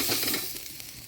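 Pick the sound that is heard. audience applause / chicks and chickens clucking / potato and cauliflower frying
potato and cauliflower frying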